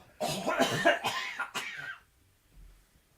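A person coughs several times in a harsh, rapid run, ending with a throaty rasp, then quiet.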